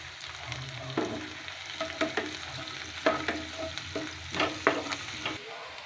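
Curry leaves and turmeric fry in a pan with a continuous close sizzle, punctuated by irregular scraping stir strokes.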